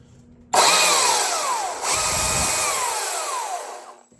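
An EGO CS2000 20-inch 56V cordless chainsaw with a brand-new chain whirs up abruptly and runs at a high electric whine, briefly dipping and revving again before cutting off, close and loud with no talk.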